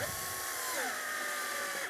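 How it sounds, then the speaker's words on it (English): A power drill drives a bolt into the wood frame of an Allegro 2 Reformer, a steady, fairly quiet motor whine whose pitch sags partway through as the fastener bites. "I'm not even going all the way in with the drill till it stops"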